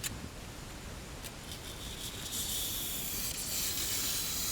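A thin, very sharp utility knife slices through XPS foam, making a harsh, continuous rasping hiss up close that grows slightly louder as the cut goes on. No one speaks over it.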